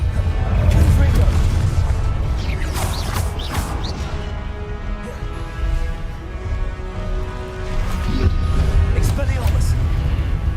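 Fiery Confringo blast spells cast over and over in Hogwarts Legacy, giving loud booming bursts with crackling impacts in a dense, continuous stream of game noise.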